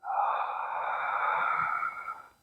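A single long ujjayi yogic inhale, a steady throaty hiss of constricted breath drawn for about two seconds, close and alone before fading out.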